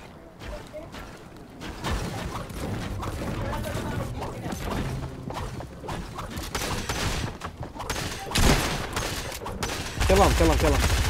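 Gunfire in the mobile shooter Fortnite, with rapid bursts and single shots repeating across the stretch at steady loudness, a louder volley near the end, mixed with game effects and talk.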